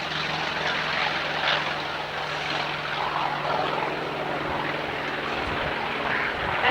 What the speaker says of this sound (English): This is the Vought Corsair, the bent wing bird as it was called